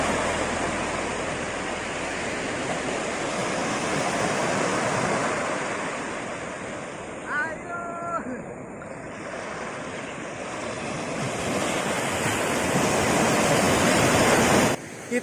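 Steady ocean surf washes onto a beach at JLS in Tulungagung, East Java, a continuous broadband roar with gentle swells and wind, while a brief faint voice-like sound surfaces midway.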